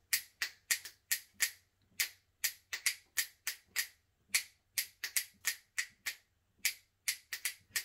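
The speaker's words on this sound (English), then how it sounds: "clap your hands, clap your hands, snap your fingers." Audience at an Africana celebration making sharp, near snaps and claps in a steady, uneven rhythm of roughly two dozen crisp hits, alone with no talking.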